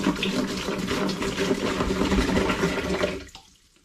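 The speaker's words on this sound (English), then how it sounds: "I'm going to begin by adding 3 litres of cold water into the bin, fermentation bin." Cold water pours steadily and forcefully into a home-brewing fermentation bin, a continuous splashing rush up close that stops abruptly at the end.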